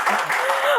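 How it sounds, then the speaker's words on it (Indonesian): Audience applause for Indonesia's agriculture minister at a televised talk show, a brief steady burst of clapping with a faint tonal voice-like trace running beneath it. "Kita berikan tepuk tangan untuk Pak Amran Sulaiman."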